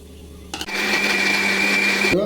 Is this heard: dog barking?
no